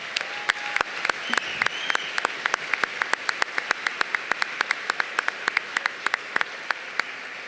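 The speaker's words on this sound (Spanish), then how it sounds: "Un fuerte aplauso para ellos." An audience at a book presentation at the Buenos Aires Book Fair claps in scattered, sharp, irregular bursts. The claps stay close and clear over a soft, steady background for the whole stretch, with no one speaking.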